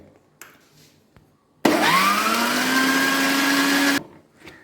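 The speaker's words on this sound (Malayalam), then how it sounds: "നല്ലതുപോലെ ഇത് മിക്സിയിലേക്ക് നല്ലതുപോലെ അടിക്കുക" A mixer grinder beats eggs and sugar into batter for a pineapple cream cake, its motor whirring loudly and steadily for a few seconds, starting and cutting off abruptly, with quiet room sounds before and after.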